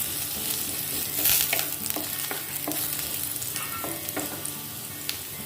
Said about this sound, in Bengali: এই প্রথমে আমি 1 চামচ মতো রসুন কুচি